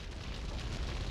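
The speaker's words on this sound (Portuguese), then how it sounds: "Explosão, me deu dano." An explosion in GTA Vice City Stories on PS2 produces a loud, continuous, rumbling blast that fills the whole second with dense low-end roar and no speech.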